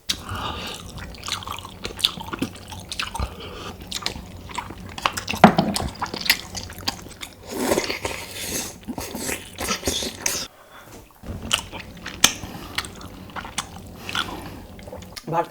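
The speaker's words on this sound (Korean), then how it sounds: "자 이제 본격적으로 먹겠습니다" Close-up eating and chewing of spicy mala hot pot food, with wet, crunchy bites and smacking chews repeating steadily and intimately near, with no talking.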